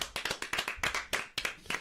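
A small audience at a comedy podcast taping claps in a loose, sparse burst, a handful of hands striking irregularly, close and fairly loud, with no talking over it.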